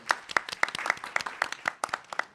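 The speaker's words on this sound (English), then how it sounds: "Y'all can clap while we pass the microphone." Scattered audience clapping at an annual panel event, uneven and moderately close, with individual claps audible rather than a dense roar.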